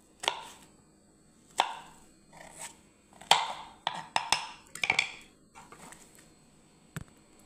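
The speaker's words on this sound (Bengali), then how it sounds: "এবার আমি আলুটাকে কাটবো বন্ধুরা" A knife chops through potato on a cutting board in a kitchen, a series of sharp, close, irregular knocks with short pauses between, a quick cluster in the middle, then a final single chop.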